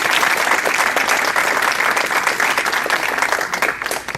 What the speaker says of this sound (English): let's applaud Mr.